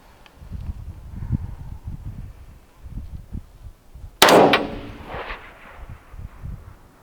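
A single sharp rifle shot cracks out toward a long-range steel target on an open range and rings off in a decaying tail, while people speak quietly before and after it.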